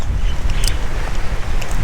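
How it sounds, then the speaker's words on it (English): Strong wind buffets the microphone in loud, rumbling gusts at a beach park by Hanalei, Kauai, with a faint rustle in the background. "It's very windy"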